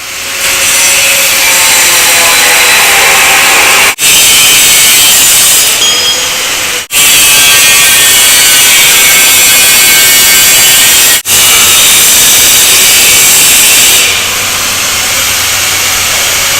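Cutting wheel grinding through go-kart front spindle saddles, a loud close shrieking whine in several long passes broken by brief stops, with a low engine-like rumble toward the end.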